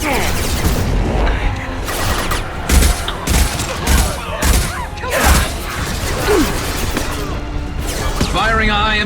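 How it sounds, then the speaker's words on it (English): Mass Effect 2 combat: rapid gunfire and heavy high-impact shots crack in bursts amid clanking mechanisms and booms, loud and dense throughout, with a character's voice heard briefly near the end. "Firing a high-impact shot."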